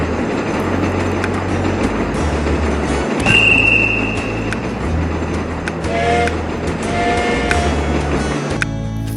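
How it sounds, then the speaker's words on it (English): A train in the video game TrainStation 2 pulls away with a steady low rumble and rolling clatter, while brief high metallic squeals and tones rise over it partway through. "I'll speak later after the train moves off"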